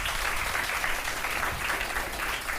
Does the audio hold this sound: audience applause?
yes